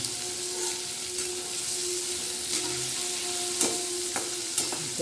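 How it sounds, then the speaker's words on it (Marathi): Shrimp, dried bombil and cluster beans get stirred in a hot pan, a continuous close sizzle broken by a few sharp scraping knocks of the spoon, with no voices. "मग तो हे चांगला आपण हलवून घेणार आहोत"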